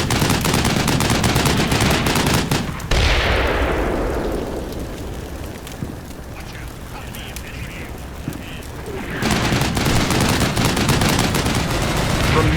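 Vehicle-mounted guns in Combat Mission: Black Sea fire in loud, sustained heavy bursts, pause for a stretch of rumbling aftermath, then resume at full intensity.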